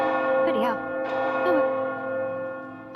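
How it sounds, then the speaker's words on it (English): A church bell rings inside the video game Oblivion Remastered, sustained metallic tones hanging steadily throughout, with a few rising and falling voiced sounds over it and a fresh strike near the end. "let's move away from the noisy church bell"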